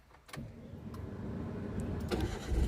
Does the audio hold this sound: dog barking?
no